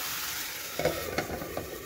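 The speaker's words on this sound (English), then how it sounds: "we will get the carrots frying" Soft, steady sizzling of carrots in a pan with a few scraping stirs and clinks near the end, no voices.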